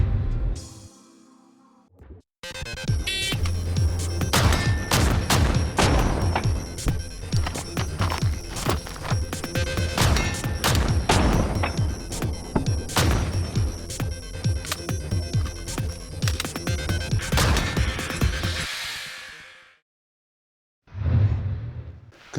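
A Mossberg 940 JM Pro 3-gun shotgun fires a long string of sharp, loud blasts, some in rapid bursts and others spaced apart, over a steady ringing background before falling silent near the end.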